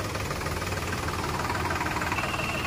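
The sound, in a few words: tractor diesel engine running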